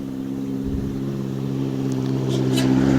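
A car drives along a concrete village road through pine forest near Merbabu, its engine a steady droning hum that swells gradually as it approaches.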